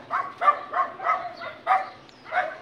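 Dogs bark in a quick series of about six sharp, evenly spaced barks, moderately close, with a faint low hum behind them.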